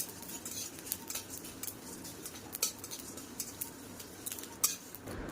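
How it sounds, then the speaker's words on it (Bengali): Light, scattered clicks and faint scraping as dry coriander and fennel seeds shift and rattle in a hot dry pan, quiet and close, with no talking. "ভাজা করে নেব শুকনো খোলায় ধনে আর মৌরি"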